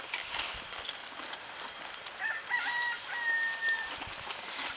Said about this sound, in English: I am mid-horse ride right now.